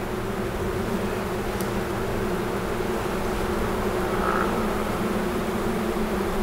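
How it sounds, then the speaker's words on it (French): Honeybees keep up a continuous low buzz in a hive while a new bee emerges from its cell. The hum stays steady and fairly close throughout, with no speech. "Là tu as une abeille en train de naître, on va l'aider."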